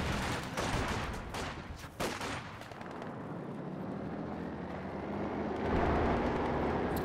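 Battle gunfire and artillery in the Company of Heroes 2 strategy game, with infantry support gun hits as sharp bursts early on, then a continuous rumbling clamour of distant shooting and explosions.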